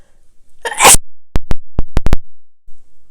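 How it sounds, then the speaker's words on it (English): A single loud, close sneeze bursts out, followed by a quick series of sharp, short clicks or taps in an otherwise quiet room. "I don't know why I'm sneezing here."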